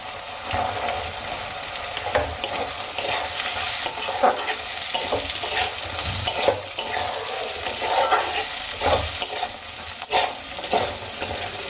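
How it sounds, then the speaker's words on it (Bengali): Green peas frying with chopped onion in a pan for a fish-head mung dal, a steady close sizzle broken by repeated scraping stirs and small clattering knocks, with no talking. "পেঁয়াজের সঙ্গে আমি কিছুক্ষণ মটরশুঁটিগুলো ভেজে নেব"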